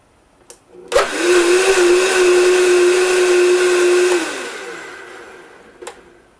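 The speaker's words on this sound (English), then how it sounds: "Drop of dish soap, and then spin your machine on high speed." A Vitamix blender spins on high speed with water and a drop of dish soap, starting abruptly into a loud, steady whining roar with a hissing wash, holding for a few seconds before winding down, with a couple of clicks around it.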